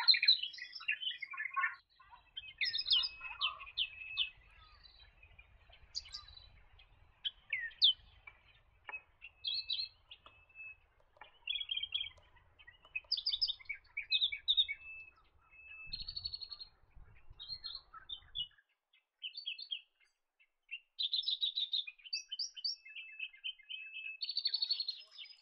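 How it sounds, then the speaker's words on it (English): An Australian reed warbler sings from reeds and shrubs around a lake at Gatton, with loud, clear bursts of rich, varied chirping phrases repeated over and over, broken by short pauses and faint low background rumble. "In the reeds and shrubs around the lake, you'll see the Australian reed warbler."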